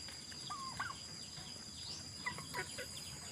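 A farmyard flock of domestic chickens makes a few faint, scattered clucks and short calls over quiet background hiss, with no talking.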